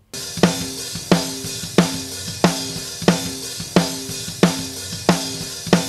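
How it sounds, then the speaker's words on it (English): Snare drum hits from the top snare microphone, looped: nine sharp, evenly spaced cracks about two thirds of a second apart, each with a quick decaying ring, loud and close with nothing else heard. "I'm looping just a few snare hits."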